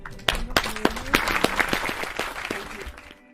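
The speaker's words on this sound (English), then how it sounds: "this is wrapped up with an applause at the end." Applause closes a music video, a burst of clapping from a small crowd heard over sharp rhythmic percussive hits and a low tonal hum, ending abruptly.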